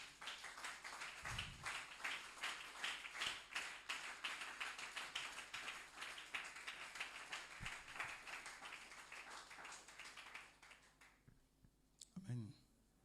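A church congregation claps in steady rhythmic applause for about eleven seconds, dense and fairly close, with voices mixed in beneath. The clapping stops abruptly and a short spoken word follows.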